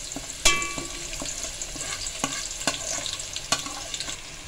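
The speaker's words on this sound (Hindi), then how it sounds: "ऑयल हमारा गर्म हो चुका है, चलें आइए मैं इसमें प्याज ऐड करती हूँ" Diced onions sizzle and crackle as they hit hot oil in a pan while a spicy keema palak is cooked, a steady close frying hiss broken by a few sharp spits and pops, with no voices.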